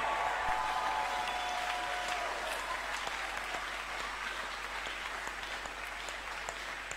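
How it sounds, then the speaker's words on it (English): A church congregation at a Wednesday evening service gives a clap offering, a continuous, even wash of many hands clapping that holds steady for the whole stretch without speech. "Can we give him a good clap offering"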